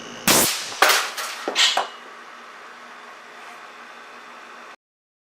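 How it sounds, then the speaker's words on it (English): An air cannon with a .625 caliber barrel fires a 400-grain hard alloy cast lead slug at 425 psi. It gives a sharp, loud blast, then a few quick cracking impacts, then a steady hiss that cuts off abruptly. "Firing pressure will be 425 psi, 425 psi, and fire."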